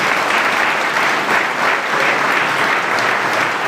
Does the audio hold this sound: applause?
yes